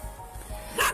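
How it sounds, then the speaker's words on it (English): A dog at a police scene gives a single sharp bark near the end, close and fairly loud over a low background rumble. "the way that dog's hanging around"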